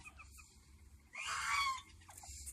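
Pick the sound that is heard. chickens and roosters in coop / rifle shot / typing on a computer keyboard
chickens and roosters in coop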